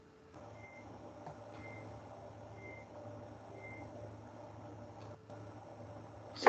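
Faint, evenly spaced high beeps repeat four times over a low outdoor rumble of engines and crowd noise.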